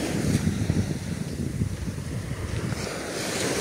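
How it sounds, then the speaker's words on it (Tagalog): Large waves breaking and surging around a boat at sea, with steady wind buffeting the microphone; a continuous, loud wash of water and gusting air with no talking. "Laki ng alon."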